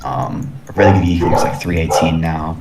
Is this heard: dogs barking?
yes